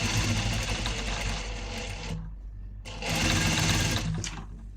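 A sewing machine stitches with its stitch length set to four, a loud close whirring run that stops briefly and then starts again.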